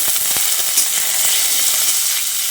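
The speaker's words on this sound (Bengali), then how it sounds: "এবার সব কিছুকে কিছুক্ষণ একটু ভেজে নিচ্ছি।" Ginger pieces and spices fry in a pan for a Bengali pumpkin dish, giving a steady close hiss with a few sharp crackles near the start and soft stirring scrapes.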